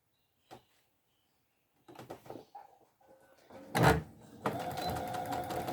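A sewing machine stitches along a curtain fabric edge: a few faint clicks and handling noises, then a short burst and a steady close whirring run of stitching toward the end.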